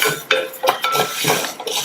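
Sago pearls roast in a pan while a spoon stirs them, making quick scraping clinks and rattles in an uneven rhythm, close and clear with no talking.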